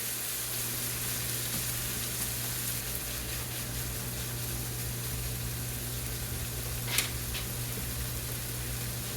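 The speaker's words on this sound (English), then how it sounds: "Now that my peas are nice and green, I'm gonna go ahead and add this ham. Mix it in really good." Ham and green peas fry in a pan with a steady, even sizzle throughout and one short clink of the stirring utensil near the end. Nobody speaks.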